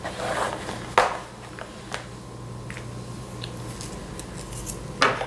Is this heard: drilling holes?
no